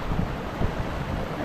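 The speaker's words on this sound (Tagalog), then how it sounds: "Malakas po yung hangin dito." Strong wind buffets the microphone in a dense, continuous rumble with gusty swells at an old dam in Taiwan, no voices present.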